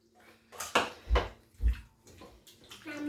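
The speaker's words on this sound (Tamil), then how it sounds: "மசாலா கலவிக்கிறேன்." Bare hands work masala into raw red salmon pieces, giving a few wet squelching slaps and sloshes in a quiet kitchen.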